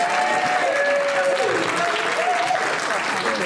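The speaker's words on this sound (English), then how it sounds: "Give them a round of applause again, guys." Sustained clapping from a conference audience fills the whole stretch at an even, loud level, with a faint whistling tone drifting over it.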